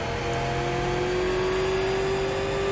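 Super late model race car engine in the iRacing simulator, a steady loud drone with rising pitch as the throttle is held, revving continuously and alone for the whole stretch.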